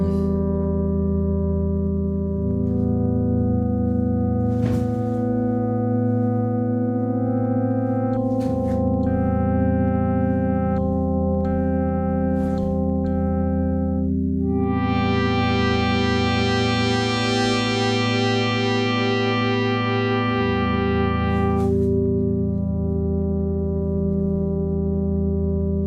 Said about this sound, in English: If I adjust the ratio here for operator 6, you can hear what difference that makes.